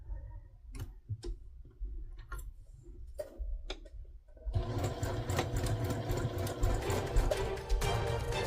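A sewing machine runs a quarter-inch seam around fabric pieces for a stuffed blue dog, with a few short starts and ticking stops before it settles into a steady, close, continuous stitching drone.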